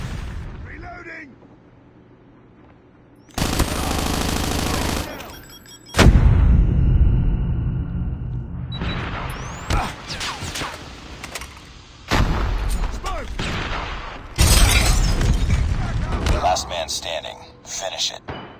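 Gunfire from a hard-to-control gun in the multiplayer video game Call of Duty Mobile comes in loud, rapid bursts broken by pauses, with explosions and game noise around it and voices calling out.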